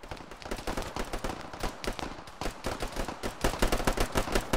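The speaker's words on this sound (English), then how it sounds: "Nixon, I shot you" Rapid, repeated gunshots in a video game, a steady crackle of automatic fire with short bursts and brief gaps, fairly close and continuous throughout.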